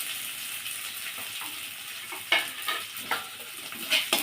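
Spice paste frying in a pan hisses with a soft, steady sizzle, broken by several sharp scraping stirs that grow more frequent toward the end.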